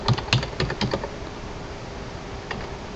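File name typed on a computer keyboard: a quick run of crisp, close key clicks that slows to silence, then a single last keystroke.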